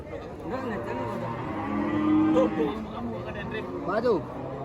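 Cattle mooing at a livestock market selling Brahman and Bali sacrificial cows in Payakumbuh, several drawn-out low calls rising and falling over a steady crowd murmur, one loud close moo near the middle and another toward the end.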